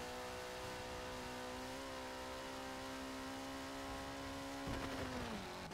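A faint Ford RS200 rally car engine in Forza Horizon 4 drones at a steady pitch, then drops sharply near the end as it winds down.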